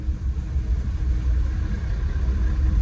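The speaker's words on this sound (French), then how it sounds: "Ça passe, la voiture c'est un Raptor." A Ford Raptor pickup truck engine rumbles steadily close by during a rally, a low continuous drone that holds level without voices.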